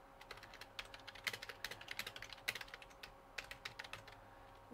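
Soft, quick keystrokes tap on a computer keyboard in steady clusters while a script is being written, fairly faint and close against a light background hum.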